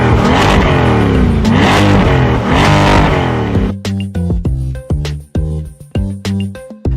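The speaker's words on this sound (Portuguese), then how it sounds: "ele fala que vai mostrar para ela o ronco do motor e pede para ela ir lá atrás e escutar o barulho da máquina" A Lamborghini engine roars in a loud, sustained rev for a few seconds, then drops into a series of sharp, stuttering blips of the throttle, close up with no talking.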